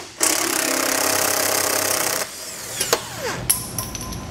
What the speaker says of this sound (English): we're gonna go ahead and remove all four bolts